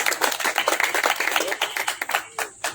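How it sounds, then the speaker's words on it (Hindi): Loud, close applause from an audience greeting guests at a wedding, a dense run of sharp claps that thins out toward the end. "एक बार जोरदार ताली के साथ स्वागत करिए।"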